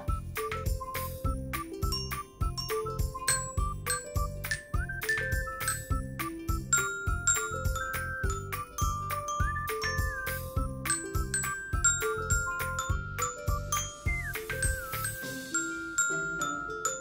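A toy xylophone with small bars plays a song as a quick, continuous run of bright, tinkling struck notes over a rhythmic low backing, steady and close with no talking.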